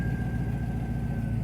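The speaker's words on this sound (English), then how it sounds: "There, she's trying to idle now nicely" A 1996 Collector Edition C4 Corvette with 35K miles idles steadily up close, a continuous low engine rumble with a faint steady whine above it, no talk over it.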